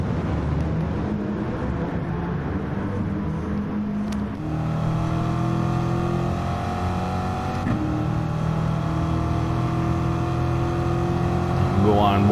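A race car engine in a racing video game drones and revs at Monza, a loud sustained motor tone that climbs steadily in pitch after a gear change, with a voice faintly talking underneath.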